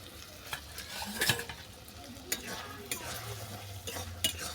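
A spoon scrapes and stirs moringa flower ghonto in a pan, soft irregular clinks and scrapes over a faint low sizzle, close but quiet.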